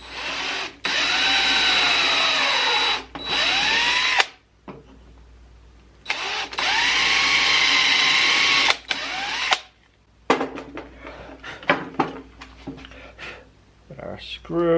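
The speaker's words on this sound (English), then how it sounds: "I want to drill into the maple so we don't split it." A power drill whines in two long bursts with a brief stop between, biting into maple wood, followed by clicks and handling noises; speech is present.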